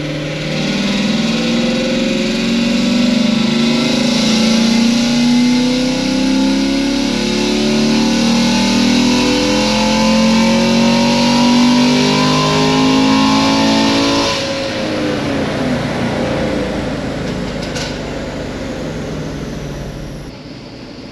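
A Chevrolet LT1 engine runs hard on a dyno, a loud sustained roar with rising harmonic tones that climb, then drop away and settle into a lower, rougher run before cutting off.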